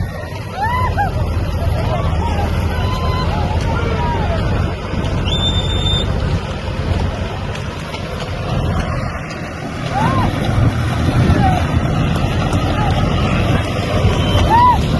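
A 45 HP Sonalika tractor runs with a rotavator tilling soil in an outdoor tractor competition, a steady low engine drone with wind buffeting and people talking over it.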